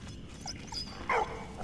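A dog in the video game Valiant Hearts gives a single short, yelping bark over low, muffled background game noise.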